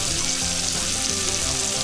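Bacon fries in a pan with a dense, steady crackling sizzle, close and loud, continuous throughout with no talking.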